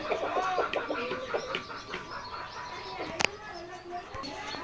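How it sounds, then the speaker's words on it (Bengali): Chickens cluck and chirp continuously nearby, several birds at once, with a sharp click partway through and a faint murmur of voices underneath. "আমরা এখন দেখাবো সেই মুরগিগুলো"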